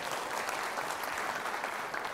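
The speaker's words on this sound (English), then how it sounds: "You can clap on that." Audience at a storytelling comedy show claps steadily in a dense, even patter of applause, moderately quiet and without talk.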